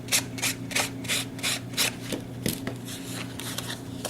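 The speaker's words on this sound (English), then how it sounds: "now I'm just going to smooth it out a bit with my sanding block" Rhythmic rasping strokes of a sanding block rubbing over a paper dress form card, about eight even passes, close and clear, then a few lighter scrapes.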